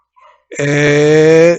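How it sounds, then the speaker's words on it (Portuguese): A single drawn-out dog bark, close and loud, lasting about a second with a brief faint yelp just before it. "eu não sei se vocês estão escutando os latidos aí pelo fundo"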